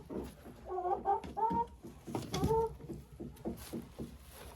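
Leghorn hens cluck close by in several short, uneven bursts of clucking and chatter, with no talking.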